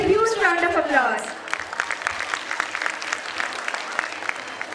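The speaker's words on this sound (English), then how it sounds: "Please welcome her with a huge round of applause." Audience applause at a school annual day celebration in an auditorium, welcoming the headmistress; a voice speaks briefly at first, then a steady spread of clapping continues at moderate volume.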